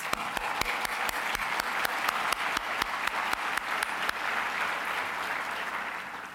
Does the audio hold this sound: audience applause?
yes